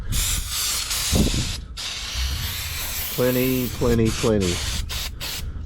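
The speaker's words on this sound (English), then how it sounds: "clean it with brake cleaner" An aerosol can of brake cleaner hisses in several short sprays onto the front brakes of a Holden VZ Adventra, mixed with a voice speaking briefly in the middle.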